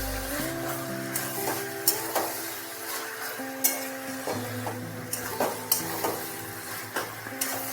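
A spoon repeatedly scrapes and stirs eggplant pieces into hilsa fish head chachchari in a pan. The stirring comes as irregular soft knocks and scrapes over a faint sizzle, with steady background music throughout.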